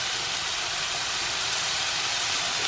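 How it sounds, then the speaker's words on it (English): Vegetables frying off in a pan after meatballs and lardons have been browned, ahead of going into a slow cooker; a steady, continuous sizzle fills the whole stretch with no talking. "frying off a little bit, just to take the edge off before it goes in the slow cooker"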